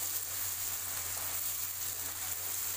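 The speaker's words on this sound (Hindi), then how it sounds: "अब हम सारी सब्जियों को अच्छे से पका लेते हैं सॉफ्ट होने तक" Vegetables sizzling in a pan for fried rice, a steady soft frying hiss with no pauses, fairly quiet and close, with a low constant hum underneath.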